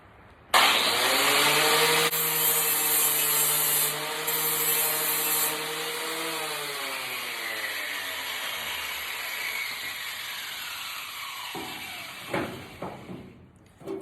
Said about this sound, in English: I gotta grind, check fit, grind, check fit, grind, check fit